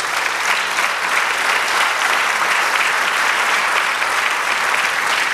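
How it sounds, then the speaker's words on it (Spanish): Sustained applause from a church congregation fills the space, a dense, steady wash of many hands clapping at close range with no voices rising above it. "Denle un aplauso al Señor."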